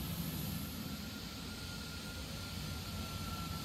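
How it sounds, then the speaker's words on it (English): Jet engines of a Boeing 777-200ER in the X-Plane 12 flight simulator run at a steady idle, a constant broadband roar with a high whine, heard from outside the aircraft with no talk. "I hope you can hear the engines alright."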